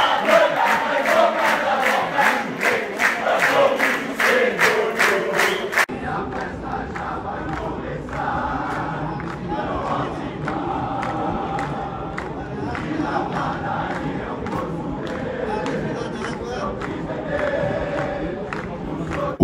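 Football supporters' group chanting as they arrive at the stadium for a Juventus match against Audax at the Javari, rhythmic loud crowd chants at first, then a broader roar of massed voices continuing steadily.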